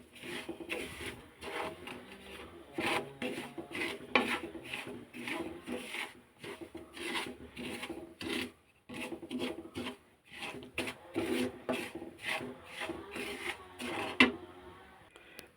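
Semolina and cashews roast in a pan, stirred with repeated rhythmic scraping strokes and short pauses, close but fairly quiet.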